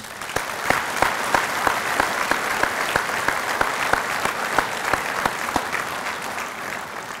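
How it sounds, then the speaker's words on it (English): A round of applause at an anniversary banquet for an artificial insemination cooperative, many hands clapping with sharp individual claps standing out near the microphone over a steady crowd wash. "Let's show these people a round of applause."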